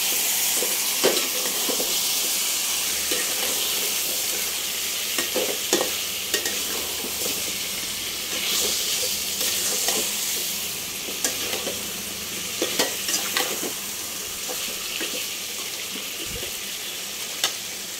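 Potatoes stirred and fried in a pan, with a steady close sizzle and hiss throughout and scraping, knocking stirring strokes scattered across it; no voices.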